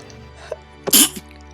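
A single sharp sneeze bursts out close by after a short intake of breath, loud and brief against a quiet indoor background.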